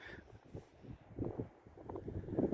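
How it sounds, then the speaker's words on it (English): Gusty wind blowing outdoors on a hillside after a storm, buffeting the microphone in low, uneven rumbling bursts that swell and fade over a couple of seconds. "Blue skies over that way, but it's still pretty windy."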